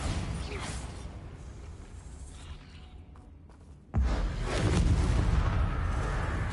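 A Bombarda blasting spell going off in Hogwarts Legacy during Merlin Trials gameplay: a sudden heavy burst of noise after a quieter ambient stretch, the blast's roar sustaining loudly for a couple of seconds.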